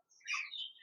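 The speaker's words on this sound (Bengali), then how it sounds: "এখানে দেখতে পাচ্ছেন একজোড়া লুটিনো ফিশার লাভবার্ড পাখি রয়েছে" A pair of lutino Fischer's lovebirds in a cage give a single short, high, slightly raspy chirp, faint and close.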